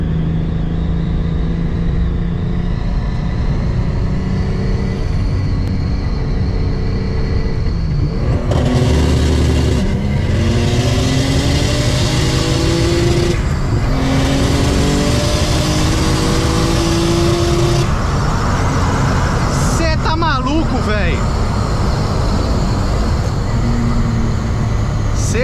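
BMW E36 making about 600 whp, launching on a two-step limiter and accelerating hard in third gear from around 80, loud engine roar with rising revs and gear changes, close and sustained throughout.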